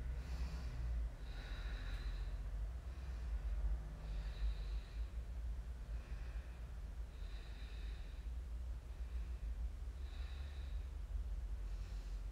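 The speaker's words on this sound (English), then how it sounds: "Just stay here, breathing." Slow, steady breathing of a person holding a yoga backbend, with soft regular inhales and exhales recurring about every two seconds, faint and close over a low background hum.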